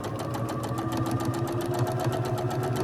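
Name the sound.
sewing machine stitching quilt pieces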